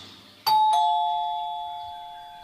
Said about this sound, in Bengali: বাড়ির গেটের কাছে এসে কলিং বেল বাজালো ওর মাসি।